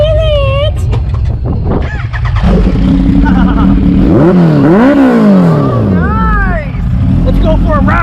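A Kawasaki H2 motorcycle engine revs loudly close by in rising and falling sweeps, with a deep idle between bursts, while people talk and shout over it.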